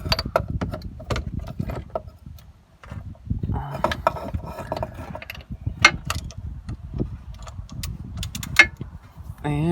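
A ratchet and extension turn the crankshaft bolt on a 2001 VW New Beetle 1.8T, giving close metallic clicks, clatter and tool knocks in irregular bursts.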